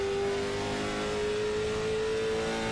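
Race car engine in a racing video game at North Wilkesboro Speedway, a loud, steady high drone with a sustained tone and no pauses, heard alone without any talk.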